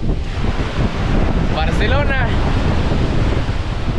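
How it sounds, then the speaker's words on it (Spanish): Ocean waves washing onto a Barcelona beach at sunset, with steady wind rumbling across the microphone throughout; a voice speaks briefly in the middle. "Hoy estamos exactamente en esta bella playa, con el atardecer, con las olas,"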